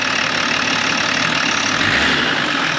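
A BMW E36 325 TDS diesel engine runs close by with a steady, gravelly roar, rising slightly in pitch as it is revved toward the end.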